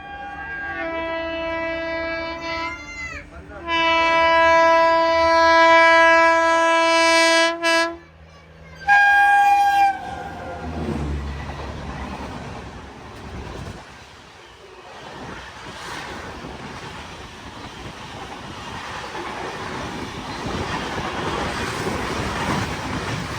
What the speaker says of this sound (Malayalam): ന്യൂഡൽഹി റാണി കമലാപതി ശതാബ്ദി എക്സ്പ്രസ് ഇതാ കടന്നു വരികയാണ്.